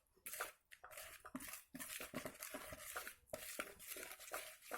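A spoon works through coffee bean cookie dough in a bowl, giving repeated scraping, squishing strokes in an uneven rhythm, close and fairly quiet with brief pauses between strokes.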